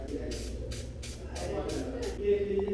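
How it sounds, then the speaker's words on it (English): Short hissing bursts of a spray can repeat in a quick uneven rhythm, five or six sprays close by over a low background hum. "we're gonna paint it black we're gonna spray it as this"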